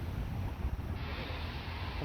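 Steady wind rushes and buffets against the microphone, a continuous low roar throughout with no voices.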